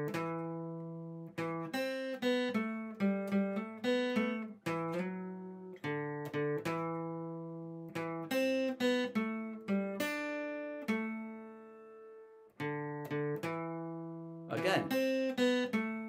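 A guitar plays a close, clear melody of plucked single notes with hammer-ons and vibrato on held notes, phrases separated by brief pauses, with no talking over it.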